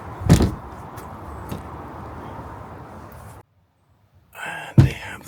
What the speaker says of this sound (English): These are double doors, so I'll take this one first.